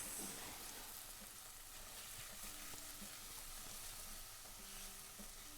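Chopped garlic sizzles in a hot pan in a clams dish, with a soft steady crackle of oil and occasional stirring scrapes. It is quiet and continuous, and no one speaks.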